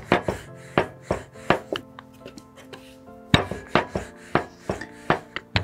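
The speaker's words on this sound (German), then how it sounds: "Und jetzt werden wir den ausrollen. Ich mache das ganz klassisch mit Omas Nudelholz." A wooden rolling pin works wheat tortilla dough on a kitchen surface, giving repeated soft knocks and thumps in an uneven rhythm, close and fairly loud, with light clinks between strokes and no talk.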